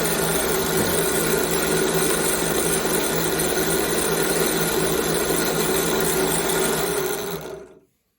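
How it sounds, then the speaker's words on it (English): A power drill fitted with a drill bit runs loud and steady at high speed while drilling an O scale model locomotive truck, then winds down and stops at the end. "So we're going to put that drill bit in there, crank it up."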